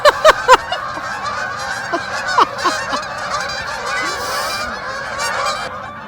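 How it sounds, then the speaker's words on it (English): Another flock of geese flies by, a few loud, sharp honks up close at the start, then a thinner scatter of calls fading into a steady outdoor hum. "Three sets of geese."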